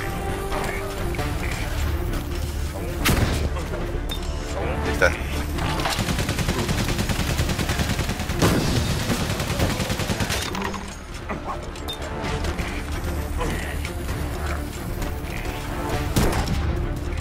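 Rapid bursts of gunfire in the First World War game Valiant Hearts: The Great War crackle continuously, dense and loud, with sharper single shots standing out against a busy background.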